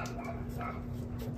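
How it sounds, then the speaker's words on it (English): A dog barks a few times indoors somewhere in the background, faint and partly masked by room noise. "And my dog's barking."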